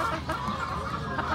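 A chicken clucks in short, close, moderately loud bursts over steady background noise, with no voices in this brief moment.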